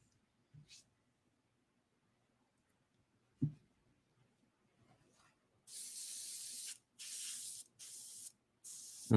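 Paint spray gun spraying a slightly rich mix in four steady bursts of hiss, each lasting about a second, with short gaps between them and a few faint knocks and handling noises beforehand.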